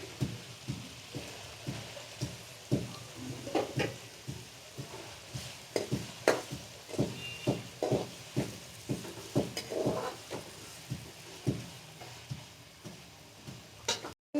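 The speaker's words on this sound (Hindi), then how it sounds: "अब इसके अंदर हम 2 बड़े साइज़ की कटी हुई प्याज ऐड कर देंगे।" Two large chopped onions fry in a pan with paste, a soft steady sizzle beneath rhythmic stirring scrapes that repeat about once a second, close and fairly quiet.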